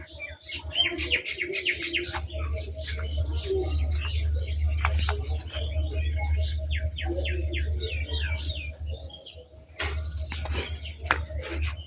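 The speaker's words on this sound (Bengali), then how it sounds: "কবুতর" A flock of birds, pigeons among them, chirps and tweets in dense bursts, with soft cooing, over a steady low hum, fairly close and continuous.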